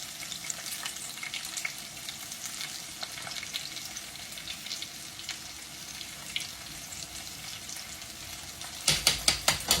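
Cabbage frying in a pan, a steady close sizzle with soft scraping stirs throughout, then a burst of louder rhythmic scraping strokes near the end.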